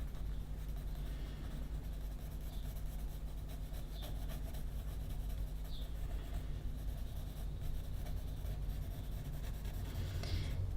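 A pencil scratches steadily across paper during a figure drawing, as a continuous faint rubbing with small strokes and bumps above a low background hum.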